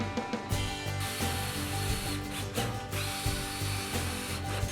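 A power drill drives screws into glued wooden tailstock pieces for a homemade lathe, a close, continuous ratcheting whir with a steady low motor hum and brief pauses between bursts.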